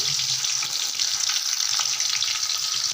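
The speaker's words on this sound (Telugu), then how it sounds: "ఇప్పుడు ఆయిల్ వేడెక్కకైతే ఆనియన్స్ ఫ్రై చేసుకుందాము" Sliced onions fry in hot oil for a home biryani, a steady close-up sizzle and crackle that holds evenly throughout, with no voices.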